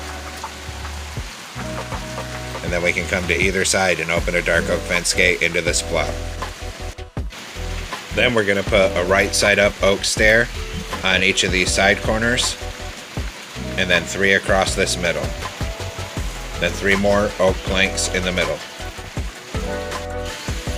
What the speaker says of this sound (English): It's absolute downpour raining here,